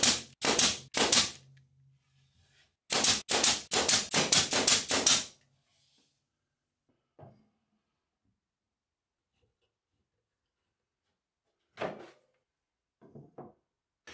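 A brad nailer fires in two quick clusters of sharp pops while fastening plywood for a torsion box table, followed by quiet gaps with a few faint knocks.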